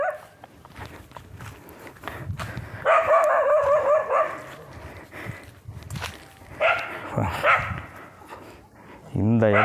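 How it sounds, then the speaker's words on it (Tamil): A dog in a hill village of two houses barks at intervals from a short distance, its yelps mixed with footsteps and people talking outdoors. "நாய் வந்து நம்மளை வந்து ரொம்ப நேரமாக குலைச்சிட்ருக்கேன்."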